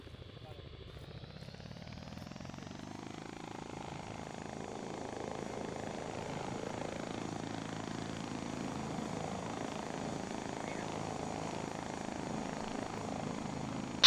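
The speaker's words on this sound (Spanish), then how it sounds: "El helicóptero se va sin nosotros." Helicopter in the military video game Arma 3 flying overhead, a steady broadband rotor and turbine drone that swells over the first few seconds and then holds loud and continuous.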